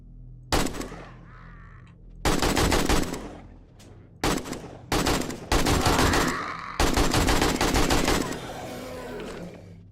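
Bursts of gunfire in the survival video game 7 Days to Die, several loud rapid volleys of automatic shots separated by short pauses, with no talking.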